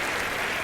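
Crowd applause in the London 2012 video game during a sports match, a short dense burst of clapping, steady and fairly loud.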